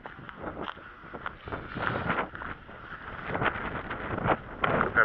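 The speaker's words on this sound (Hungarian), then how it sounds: "A szél az még mindig nem csitult." Strong gusty wind buffets the microphone at a hilltop castle ruin, a continuous rumbling roar that rises and falls in bursts over about five seconds, with no speech.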